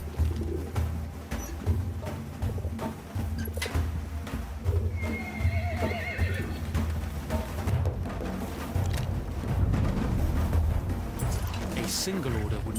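Horses whinny and gallop in the Battlefield 1 video game, neighs rising over a busy mix of hoofbeats and ambient game sound while a narrator speaks throughout.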